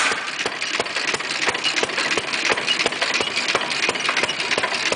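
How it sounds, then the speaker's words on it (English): A six horsepower hit and miss engine runs with a steady, regular string of sharp firing pops, close and loud, with no talking. "This is a continuous run, and the six horsepower is a hit and miss."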